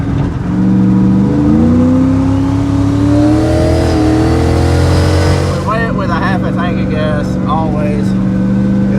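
Turbocharged Coyote-engined S197 Mustang accelerating hard on a pull, a loud, steady engine roar rising in pitch through the gears with a brief shift dip midway and excited voices over it.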